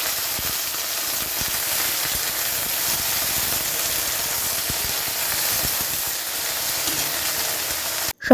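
Okra frying in a pan on a home stove, a constant hissing sizzle held at an even level, close and without speech, ending in a brief clatter.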